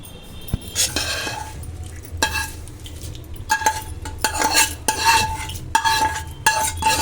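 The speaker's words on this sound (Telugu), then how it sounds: "పోపును పచ్చడిలో వేసి కలుపుకుందాము" A spoon stirs tempering into ridge gourd chutney, scraping around a metal pan in repeated strokes, clinking against the sides, close and clear.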